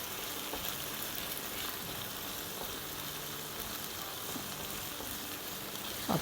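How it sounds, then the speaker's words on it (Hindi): Yogurt is stirred into chicken karahi frying in a pan, giving a soft, steady, even sizzle that continues throughout with no voices. "दही को अच्छे से मिलाएंगे।"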